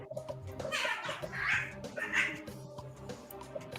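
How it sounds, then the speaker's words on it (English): Cats fighting and yowling, rising and falling wails with a couple of loud peaks over a busy background, heard at moderate distance. "There's some cat UFC going on over"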